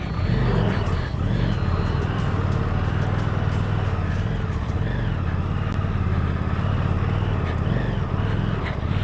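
A Harley 750 motorcycle ridden off-road, its engine droning loud and steady throughout with a constant low rumble and some clatter, close by.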